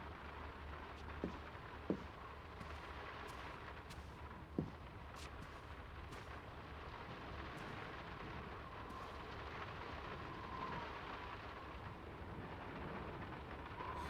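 Heavy rain pours steadily in a cutscene from the video game Draugen, with a few sharp thunder cracks early on and distant rumbles through the rest; no one speaks.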